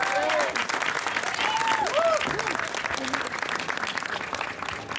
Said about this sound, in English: Big round of applause for Kim Tavaloni.